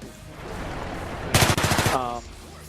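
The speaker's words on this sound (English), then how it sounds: "It has a burst fire, which is the second fire rate." A FAMAS rifle in a video game fires a single rapid burst of about six sharp, loud shots in quick succession, preceded by steady background game noise.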